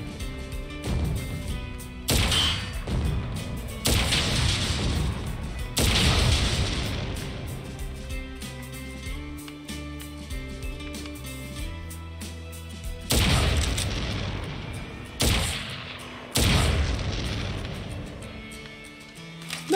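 Explosions from a smart bomb in Crisis Core Final Fantasy VII Reunion, several loud booming bursts over game music, clustered early and again near the end.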